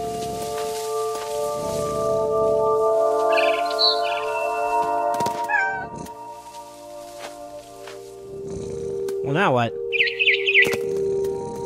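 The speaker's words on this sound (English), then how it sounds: "It was a barn swallow going back to her nest." Barn swallow in the game What Remains of Edith Finch gives a few short high chirps and a brief flutter of wings over a steady game music bed, with a rustle and a falling sweep near the end.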